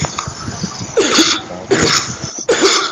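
Three sharp coughs close to a microphone, each a harsh burst spaced about a second apart, over a low background hum.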